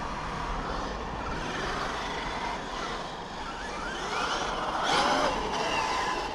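Traxxas XRT Beetle radio-controlled car running on a track, a steady high electric whine with a rising pitch sweep near the end, fairly close and continuous with no voices.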